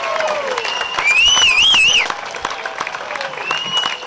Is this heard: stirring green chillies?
no